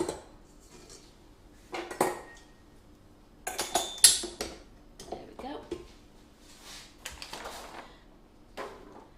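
Dairy-free butter spread whisked in a bowl, heard as scattered metallic clinks and scrapes of a whisk against the bowl in irregular bursts, close by, with a voice talking at times.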